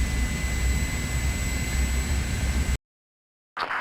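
An airplane in the video game Project IGI drones as a loud steady engine roar for nearly three seconds, then cuts off abruptly to silence before a brief burst of sound returns.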